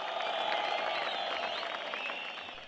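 A crowd in Ramallah cheering and applauding Mahmoud Abbas after a speech, a dense continuous roar of clapping and shouting heard from within the gathering, steady and then slightly fading.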